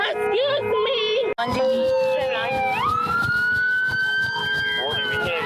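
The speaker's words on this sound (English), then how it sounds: "Warning, we can't hear you with the siren." A police car siren wails loud and close through a roadside arrest, its rising and falling tones steady across the whole stretch, with a brief dropout early on and people talking over it.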